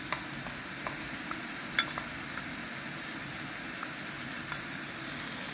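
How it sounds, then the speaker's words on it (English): Broccoli sizzling steadily in a hot pan as a prepared garlic sauce goes in, a continuous frying hiss with occasional light stirring clicks, close and moderately quiet, no voices. "So after that, we are gonna add our sauce that we've prepared"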